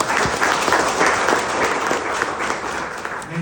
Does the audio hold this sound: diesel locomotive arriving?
no